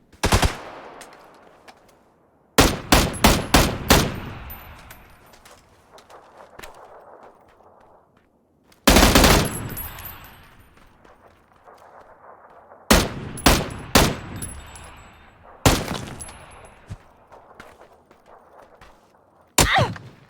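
Bursts of MG3 machine gun fire in a shooting video game, several sharp loud volleys of rapid shots separated by short pauses, each trailing off in echoing decay, with no talk.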